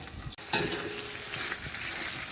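Diced onions and meat sizzling in a pot for Libyan mbakbaka, a close, steady frying hiss that swells as the onions hit the hot oil, with light stirring and no talk.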